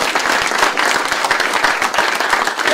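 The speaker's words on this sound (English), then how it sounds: "make a round of applause" A close, loud audience bursts into brisk applause, many hands clapping rapidly and continuously with crisp individual claps audible throughout the dense wash.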